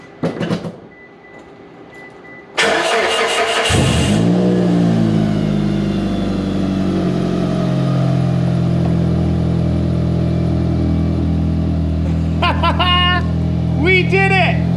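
A car engine starts and then revs loudly after a repair, with a sustained rough, meaty drone close by that rises and falls. A voice speaks briefly over it near the end.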